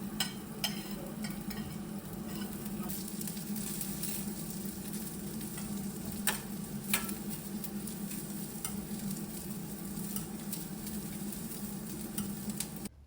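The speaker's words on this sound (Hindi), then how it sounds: "तो थोड़े से घी में मैं सभी ड्राई फ्रूट्स को शैलो फ्राई कर लूँगी।" Dry fruits shallow-fry in a little ghee, giving a soft, continuous sizzle with scattered crackles and occasional stirring scrapes, steady and fairly quiet throughout.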